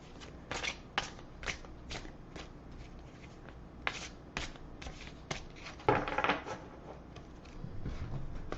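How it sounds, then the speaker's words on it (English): Tarot cards are shuffled repeatedly in quick riffling bursts, close and fairly quiet, with soft handling noises between shuffles. "I've already pre-shuffled all these, so this is just sort of a last little shuffle."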